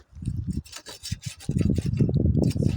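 Hand sawing while pruning a plum tree in a village orchard, a close, steady rasping of a saw cutting wood in repeated strokes, pausing briefly before continuing more loudly.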